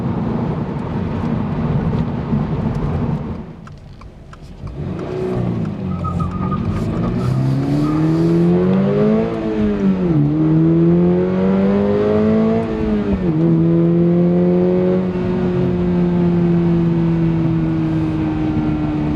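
A Toyota GR86 engine accelerates hard through the gears, its loud, close drone climbing steadily in pitch, then dropping briefly at each upshift around the middle before settling into a steady higher cruise, with no talking.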